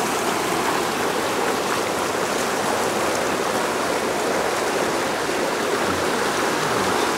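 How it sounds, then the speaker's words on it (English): Floodwater rushes through the swollen Assabet River in eastern Massachusetts during the March 2010 flooding, making a dense, steady roar that stays even and unbroken throughout, with no voices. "You hear the water rushing."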